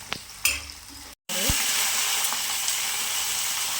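Onions and roasted peanuts fry in a pan for a breakfast sprouted-bean curry, a loud steady sizzle that starts after a short gap, with a few clinks and stirring sounds.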